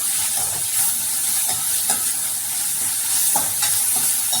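Onion masala with turmeric sizzles steadily in a pan for poori, a continuous close frying hiss broken by a few soft scraping stirs of the spoon.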